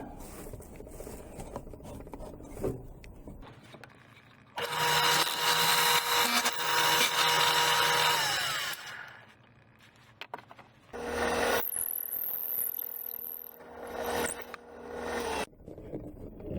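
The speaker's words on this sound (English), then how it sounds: "I'm going to cut some slices off of here." Wood being cut into slices for a whirligig makes two long, loud, close rasping bursts of cutting, separated by a quieter pause, with a high whine during the second pass.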